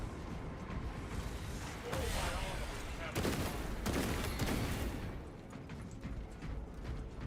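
Missiles fire in a video game battle as several rushing, crackling blasts in quick succession, rising loud over a dense, continuous backdrop of combat noise.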